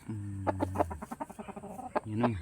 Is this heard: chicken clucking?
yes